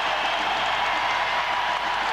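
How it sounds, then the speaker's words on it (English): A basketball crowd at Conseco Fieldhouse cheers and applauds steadily as fans stand during an NBA game, a dense, continuous roar of the arena. "They're on their feet and cheering here at Conseco Fieldhouse"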